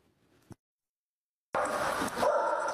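Stray dogs roaming in packs through a small town centre, heard as a short faint yelp followed by a burst of loud, close barking that continues to the end.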